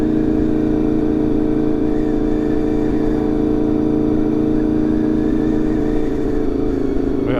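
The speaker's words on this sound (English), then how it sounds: "I'm barely touching the throttle" A Honda VFR motorcycle engine drones loud and close during a test ride, holding a steady roar that climbs slightly as it accelerates near the end.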